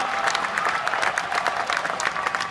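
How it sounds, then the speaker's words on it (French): Crowd applause at an indoor motorcycle trial event in Montbéliard, honouring rider Tony Bou; dense, steady clapping from a large audience filling the arena, with a few scattered cheers mixed in. "Ça mérite quand même quelques applaudissements."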